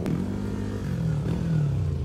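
A Yamaha NMAX scooter with a super stock engine being test revved, a steady close mid-pitched engine hum with a slight rising and falling rev.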